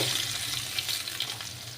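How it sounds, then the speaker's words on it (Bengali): Tilapia fish frying in oil in a pan, cooked alongside a cabbage and rohu fish head dish, make a soft, steady sizzle with faint crackles, close and continuous without voices. "এইদিকে তেলাপিয়া মাছগুলোকে ভেজে রেখেছি আর এইদিকে এই মাছটাও ভাজা হয়ে গেছে"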